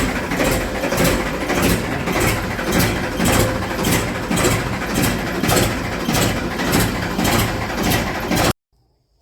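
A Ford 3600 tractor engine runs steadily with a loud, even, rhythmic chugging for several seconds, close by, before it cuts out abruptly.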